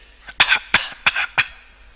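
A man vocally imitates a cough, producing four short, harsh bursts in a quick, evenly spaced series, close and fairly loud with nothing else beside them.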